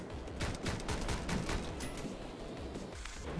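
Rapid bursts of gunfire from the driving shooter game Speed Limit, a dense steady volley of automatic shots that keeps going for the whole stretch, loud and close with no talk over it.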